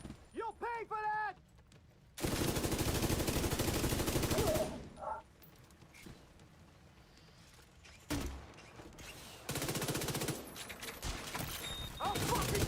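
Sustained bursts of automatic gunfire from a video game raid, loud and dense, come in long stretches separated by brief pauses, with a short voiced call near the start.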